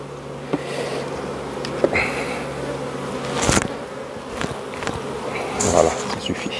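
Honeybees buzz steadily around two hive frames during a summer honey harvest, a continuous close hum with a few sharp knocks and clicks of handling over it.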